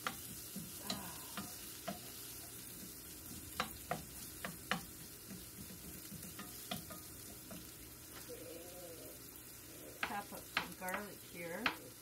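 Shallots sizzle in a pan on the stovetop, a constant bright hiss broken by sharp ticks and scrapes of stirring, close up, with a faint voice briefly underneath.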